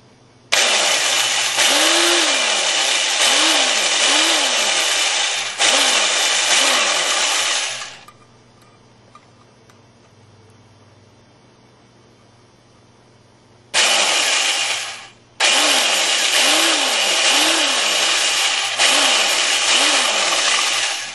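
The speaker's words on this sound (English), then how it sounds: "And then drill all the holes. This might get a little loud." A loud power drill drilling holes in metal for a Supercat stove whines close by in long sustained bursts, pitch rising and falling as it bites, with a quiet pause between runs.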